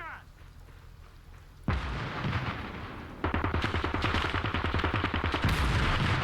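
A DShK heavy machine gun fires in the war strategy game Call to Arms with loud, steady bursts of rapid thudding shots. Battle noise is heavy throughout and keeps building toward the end.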